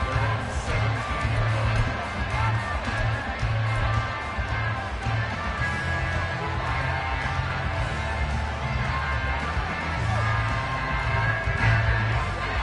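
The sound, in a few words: stadium crowd cheering in the video game Madden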